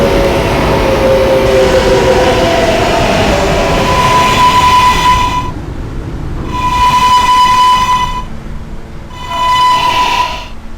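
An R143 subway train rumbles along the track with a loud, steady running roar, while three sustained tonal blasts sound one after another at regular intervals over it.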